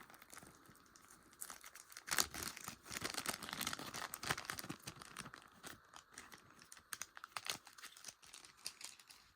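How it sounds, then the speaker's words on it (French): Thin plastic wrapping crinkles and tears as it is pulled off Zyuranger Dino Buckler Memorial Edition toys, a busy run of close, fairly loud rustles and crackles with no talking. "On va les ouvrir pour les voir de plus près et sans le petit plastique."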